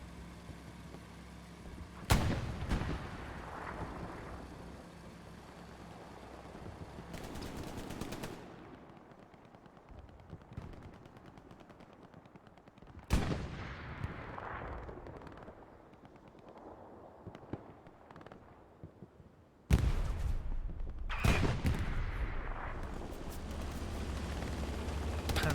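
World War II battle at Utah Beach in a multiplayer game, with a Panzer IV tank shelling a point amid machine-gun bursts and gunfire, coming in sharp loud onsets separated by quieter stretches.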